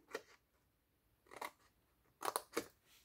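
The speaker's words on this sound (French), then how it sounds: "Donc là, on va le faire avec le ciseau, ça va être aussi simple." Scissors cutting paper for a handmade tea pouch, several crisp close snips, with one single cut and then a quick cluster of snips, separated by short quiet gaps.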